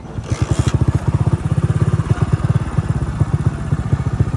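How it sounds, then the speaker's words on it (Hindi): Motorcycle ride with a steady, loud, rhythmic engine chug from a mid-sized bike running close by, its pulsing beat continuous throughout with no voices over it. "हमारी बाइक की सवारी चेक करें किस तरह हम जाते हैं।"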